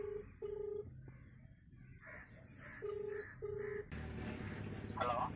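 Telephone keypad dialing tones, several short steady beeps in separate groups, heard alone with no talk over them before a louder stretch of background sound.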